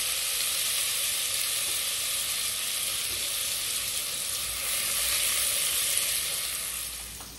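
Garlic sizzles in hot olive oil in a home kitchen, a dense, steady crackling hiss that holds loud and close for several seconds before easing slightly at the end, with no talking.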